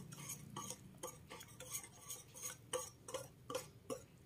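A wire whisk stirs flour batter for puto in a bowl, with a regular series of sharp metallic taps and scrapes at a steady rhythm, close and fairly quiet, no voices.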